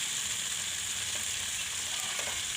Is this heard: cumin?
yes